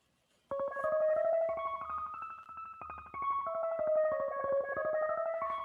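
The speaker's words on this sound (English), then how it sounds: "I took a different part of that singing and really cut it down into the microseconds" Singing chopped into tiny slices repeats as a rapid stuttering, pitched pattern of short vocal fragments, played soloed and alone, starting after a brief silence and pausing once midway.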